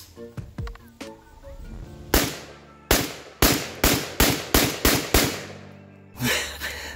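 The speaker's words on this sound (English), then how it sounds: "Let's go ahead and throw some shot shells through it and see how it does." VRF-14 shotgun fitted with a chainsaw grip firing shot shells outdoors, a series of loud close blasts in quick succession, each with a short echoing tail, after some lighter handling clicks.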